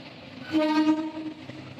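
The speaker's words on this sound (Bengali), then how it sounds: "এই যে ট্রেন চলে যাচ্ছে" A train rumbles past close by at a railway station platform, with a sustained horn-like tonal blare rising midway and then fading back into the rolling noise.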